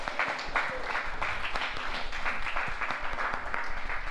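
Audience applause at a school morning assembly for Mr. Morales: dense, steady clapping from a crowd, sustained at even loudness throughout.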